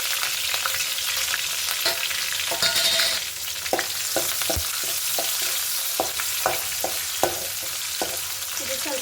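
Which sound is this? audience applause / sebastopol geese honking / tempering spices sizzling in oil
tempering spices sizzling in oil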